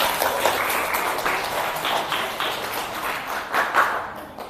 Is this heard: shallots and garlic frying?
no